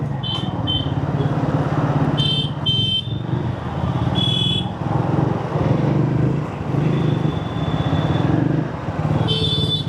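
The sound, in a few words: Triumph Speed motorcycle riding through city traffic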